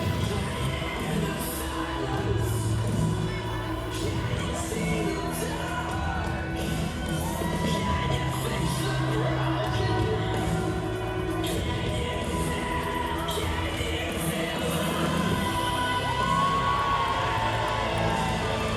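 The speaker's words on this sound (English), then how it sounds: "Listen to this crowd." A dense wrestling-event crowd cheers and yells steadily at full volume, whoops and shouts rising above a constant roar throughout.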